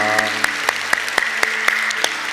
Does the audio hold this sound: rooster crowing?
no